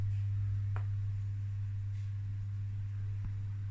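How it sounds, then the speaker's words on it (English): A 1960 DISA type 54A stroboscope under repair gives off a steady low electrical hum, constant and fairly quiet, with a few faint clicks over it. "Can you hear this? Humming."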